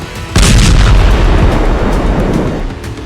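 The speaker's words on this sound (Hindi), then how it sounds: "और फिर कुछ सेकंड बाद हुआ दूसरा धमाका।" A single loud, close bomb explosion bursts suddenly in the Lebanese village of Kafr Kila, then rumbles and crackles for a few seconds as it slowly fades.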